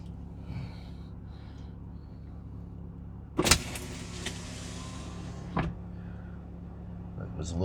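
A Jeep Gladiator's power window runs shut against a newly fitted window deflector, a low motor whir under a steady idle, with a sharp knock as it seats and a second fainter bump later.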